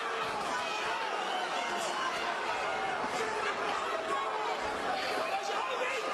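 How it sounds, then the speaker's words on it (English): A boxing arena crowd roars and chants during the closing seconds of a fight, a dense, continuous wall of many voices filling the space with no breaks. "An electric atmosphere, most of the crowd on its feet. Vociferous chants, 30 seconds left in the fight."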